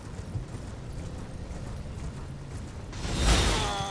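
Riding a horse in Elden Ring, a steady run of soft hoof thuds and mechanical creaks, moderately loud, with a bright rushing swell near the end, no talk.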